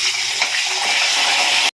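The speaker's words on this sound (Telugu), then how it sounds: "ఆయిల్ కాగిందండి, ముక్కలు వేద్దాము." Vegetable pieces drop into hot oil and fry, a loud, steady sizzling hiss that starts at once and cuts off abruptly after under two seconds.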